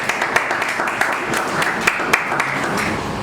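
Steady applause from an audience during a speech, a continuous wash of many hands clapping at moderate volume with a few sharper individual claps standing out.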